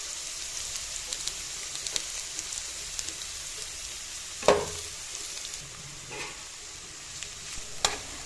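Chopped onions frying in oil in a pan for a meat curry, a faint continuous sizzle with occasional scraping stirs, fairly quiet throughout.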